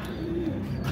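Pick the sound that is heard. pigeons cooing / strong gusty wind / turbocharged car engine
pigeons cooing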